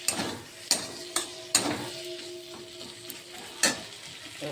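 Fish fat spits and sizzles in a pan under several sharp utensil knocks against the metal, with a faint steady hum running through the close crackle.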